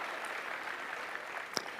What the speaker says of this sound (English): Let's give him a round of applause as he makes his way up.